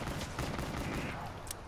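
Gunfire rattles in Call of Duty: Black Ops III Zombies, a dense, steady stream of shots under game ambience with a player talking over it.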